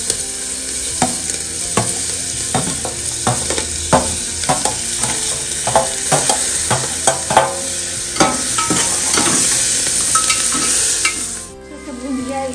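Chopped onion and green chili frying in a pan, a loud steady sizzle punctuated by a regular run of sharp spatula scrapes and clacks, then a brief quieter stretch near the end; no one speaks.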